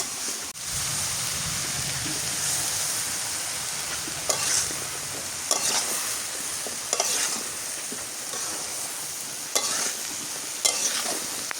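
Chopped vegetables and tomato sizzling in a pan in a village kitchen on a rainy day, a steady hiss with occasional sharp clicks from stirring, close and unbroken, no talking.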